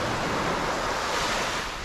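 Surf washing onto Naithon Beach, a continuous broad rush of breaking waves with a steady roar and no voices, heard for under two seconds.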